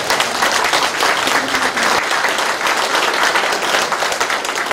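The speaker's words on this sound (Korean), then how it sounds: "여러분 박수 한번 주세요." Audience applause at a mayor's 100-day talk concert in Icheon, South Korea: dense, steady clapping from a large indoor crowd, loud and continuous throughout.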